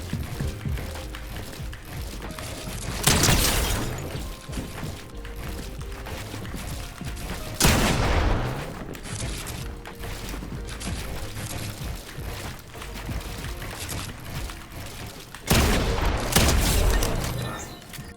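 Shotgun blasts in an aim training video game, three loud booming shots spaced several seconds apart, each with a sharp attack over a constant busy background of game sounds.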